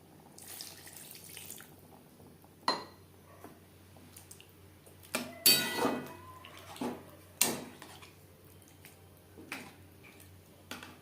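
Pointed gourd is stirred into gravy in a pot, giving scattered scrapes and clinks of a spoon against the metal at irregular moments over a quiet background, close by, with no voices.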